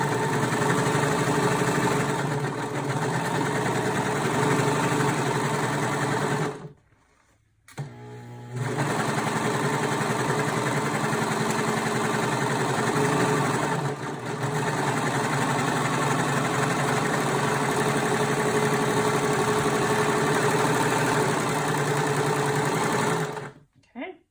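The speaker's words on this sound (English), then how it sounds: "I'm over here at my serger. I'm going to flip my power switch on, lift my foot, and get ready to sew" A serger runs nearly continuously while sewing a seam for a car trash bag, a loud, close mechanical whir with two brief stops.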